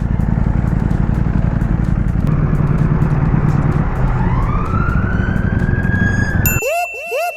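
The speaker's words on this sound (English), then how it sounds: "That's the sound of the police." A London police siren rises in a long wail over loud, rumbling traffic, then switches to rapid yelping whoops near the end.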